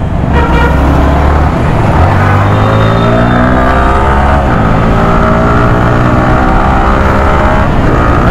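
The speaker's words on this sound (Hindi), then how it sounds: "तो यार हर तरफ ट्रैफिक ही ट्रैफिक है।" Dense road traffic around a motorbike on a jammed street, a loud, steady roar of engines with horn toots and passing vehicles sweeping by up close.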